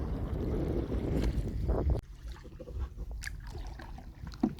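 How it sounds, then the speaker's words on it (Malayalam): A wooden rowboat is paddled along a river creek near mangroves on a crab-hunting outing. Close water swishes and drips come from the strokes, busier for the first two seconds, then quieter lapping and small splashes. "ഞങ്ങൾ ഞണ്ട് കിട്ടുന്ന സ്പോട്ട് ലക്ഷ്യമാക്കി പുഴയിലേക്ക് തോണി തുഴഞ്ഞ് നീങ്ങുകയാണ്"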